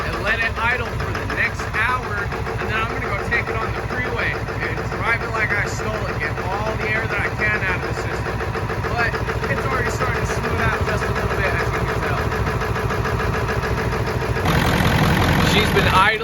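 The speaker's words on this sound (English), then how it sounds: "She's been idling for about 45 minutes now and sounds so much better." Ford F350 7.3L diesel truck engine idling steadily after injector replacement, a loud, continuous clattering diesel rumble that holds without stopping throughout.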